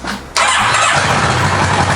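A Kawasaki Versys 650 motorcycle engine cranks and catches after a brief quiet moment, then settles into a loud, close, steady running rumble.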